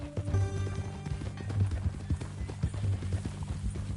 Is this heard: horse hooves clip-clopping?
yes